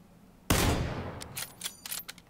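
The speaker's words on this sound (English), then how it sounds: "I hear gunshots behind us." Gunfire in the PUBG video game: a sudden loud burst of shots, then a run of sharper, quicker cracks that fade and scatter, with no talk over them.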